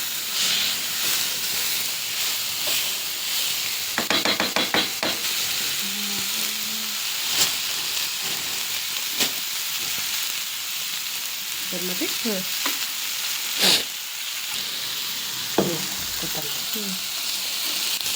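Carrot and garlic fry in a pan with a continuous hissing sizzle, broken by scattered scraping and clinking from a spoon being stirred through, and a few short vocal sounds in the background.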